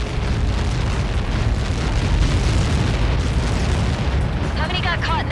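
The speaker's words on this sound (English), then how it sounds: "How many got caught in that explosion?" Massive explosion in the Ace Combat 7 flight game: a loud, sustained roaring blast with rumbling debris and crackle, ending as a voice begins speaking over it.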